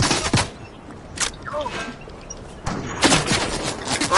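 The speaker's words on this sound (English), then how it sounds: "I got a coded SMG" Coded SMG fire in a video game, heard as a few short separated bursts of automatic shots spread over a few seconds, moderately loud against quiet game background.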